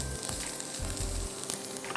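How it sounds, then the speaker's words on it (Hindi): Onions brown without oil in a non-stick pan, giving a steady close sizzle with brief stirring scrapes, alone with no voices. "आराम से ब्राउन हो जाता है प्याज।"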